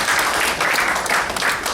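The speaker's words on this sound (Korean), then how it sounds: "두 분 위해서 박수 한번 쳐주세요" Audience applause at a business gathering after an agreement signing, a short burst of dense clapping, loud and close, with no talk over it.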